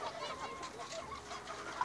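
Young chicken in a new cage, giving a few soft clucks and chirpy calls close by, fairly quiet against a low background hiss.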